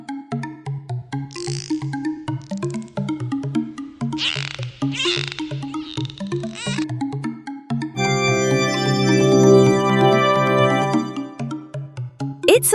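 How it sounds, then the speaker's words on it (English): A dolphin lets out several rising, squeaky whistles over light background music, followed by a sustained musical chord. "It's a dolphin."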